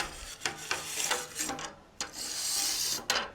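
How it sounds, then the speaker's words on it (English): A stainless steel wire brush scrubs a piece of aluminum in one direction ahead of welding, giving a handful of raspy, scratchy strokes with brief pauses between them, close and fairly quiet, with no voices. "I'm going to take my piece of aluminum and I'm going to brush with a stainless steel brush"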